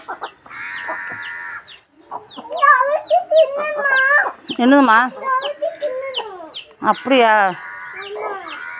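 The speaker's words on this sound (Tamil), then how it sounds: "சேவல் கோழி" A rooster and hens in a home garden cluck and squawk in loud, close bursts, with a voice talking between the calls.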